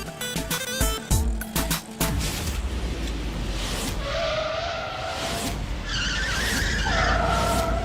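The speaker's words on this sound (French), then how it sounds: "C'est une route, il y a des voitures." Cars on a road, with sharp tire skids and squeals up close, then a steady traffic rumble and engine whine that stay loud throughout.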